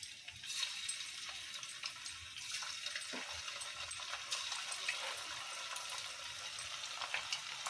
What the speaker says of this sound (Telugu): ఇలా ఆయిల్ హీట్ అయిన తర్వాత పకోడీలు వేసుకుందామండి.